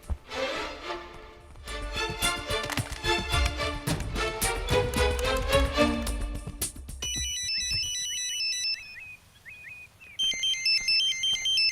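A telephone ringtone rings during a Telugu action film, starting as a loud melodic tune and then switching to a repeating electronic beeping pattern. It plays alone and clearly, with no voices.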